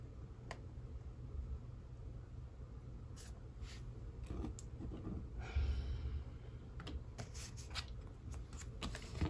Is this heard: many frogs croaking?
no